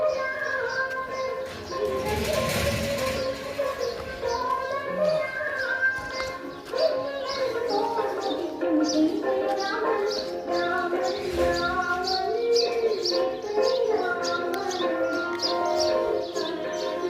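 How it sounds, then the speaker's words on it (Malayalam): Birds calling around a village in Vattavada during a morning walk, with repeated soft cooing and chirps over a continuous bed of distant temple music, moderately loud and steady. "അമ്പലങ്ങളുടെ പാട്ടും കിളികളുടെ ശബ്ദവും അങ്ങനെയൊക്കെ ആയിട്ട് വട്ടവടയുടെ ആ വൈബ്"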